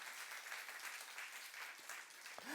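A congregation claps during a youth service sermon at a church, the applause steady and fairly faint across the whole stretch, with no voices standing out.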